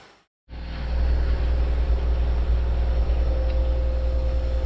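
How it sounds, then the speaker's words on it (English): A washing machine runs in a room during a home all-grain brew-in-a-bag brew day, making a steady loud drone and hum with an even mechanical whir, continuous after a brief quiet start. "You'll have to excuse the noise of the washing machine in the background"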